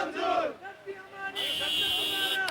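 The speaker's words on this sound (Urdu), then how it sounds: "ہم ظلم کے ضابطے ہم نہیں مانتے, یہ دہشت گردی ہے, اس کے بھی منصوبہ بندی ہے, جیسے نعرے لگ رہے ہیں" Protesters from a Gilgit-Baltistan action committee chant slogans in unison at a road blockade in front of a press club, a loud close crowd cry with a bright hiss of voices building toward the end.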